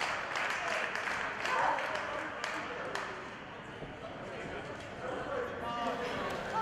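A wrestling crowd in an arena cheers for Brittany Blake, a steady roar of voices and scattered claps with thuds from the ring, and a commentator talks over it.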